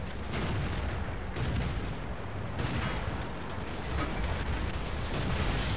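Tank cannon fire from a Matilda tank in a combat video game comes as heavy, dense booming blasts that fill the clip with continuous rumbling gunfire.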